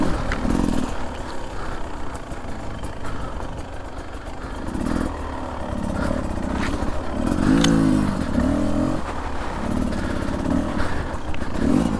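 Beta 300 RR two-stroke dirt bike revving hard on an uphill scramble, engine note rising and falling continuously with clattering over rough ground, close and loud throughout.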